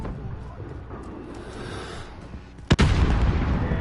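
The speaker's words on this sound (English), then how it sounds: "Got mortars incoming." A mortar shell slams down in Call of Duty Modern Warfare with a sharp, loud blast that gives way to a rumbling roar, after a stretch of low battlefield noise.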